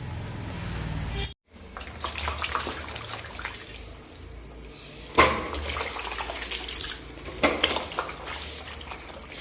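Pieces of jackfruit are washed in water, with continuous splashing and sloshing, a brief gap near the start and a few louder splashes later.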